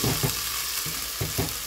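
Potatoes browning in a pan for a summer vegetable curry: a constant bright sizzle of hot oil, broken by a few short scraping stirs.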